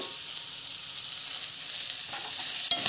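Chopped tomatoes and chana dal lentils sauté in a hot pan, giving a steady, dense sizzle throughout, with a faint clink near the end and no voices.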